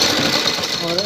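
Sewing machine running a fast continuous stitch along a shaped neckline on a garment, a steady close mechanical buzz lasting about a second.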